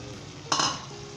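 Brief stirring of a baby potato karahi with green chilies, mint leaves and coriander, a single scraping swirl of ingredients against the pan over a faint steady sizzle.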